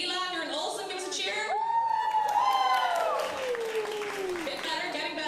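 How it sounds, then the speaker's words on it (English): Crowd at the CEI 2024 opening ceremony cheering loudly, with whoops and rising, sliding shouts over continuous clapping and crowd noise throughout. "If you're an Olsen, give us a cheer"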